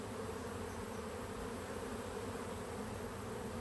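A steady, close hum of honey bees buzzing over an open hive with frames partly filled with honey, an even droning swarm sound, fairly quiet and unbroken, with no voices.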